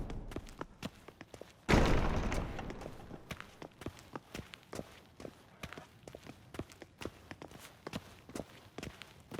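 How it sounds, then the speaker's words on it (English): Footsteps in The Witcher 3 video game fall in a steady, quiet walking rhythm across a hard surface, opening with a single heavy thud. "Footsteps."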